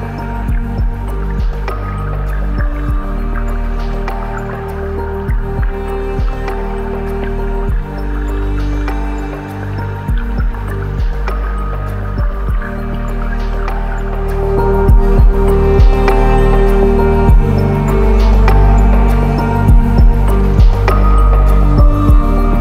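Heavy rain pours down steadily during a midday rest on a trek in Norway, a loud dense patter with close drips and splashes that continues without letup.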